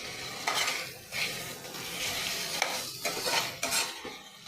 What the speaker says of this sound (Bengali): দিয়ে ভালো করে একটু মশলাটা ভেজে নেব